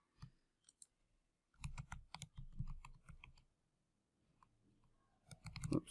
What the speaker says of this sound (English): let's just type in what we just had